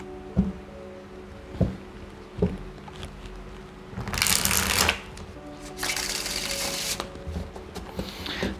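Tarot cards being shuffled by hand, giving a few soft taps and riffles followed by two longer bursts of fluttering card noise, close and fairly quiet.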